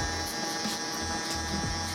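An electric foil shaver buzzes steadily and close during a burst fade haircut, a continuous hum with faint intermittent contact rasps and no talking.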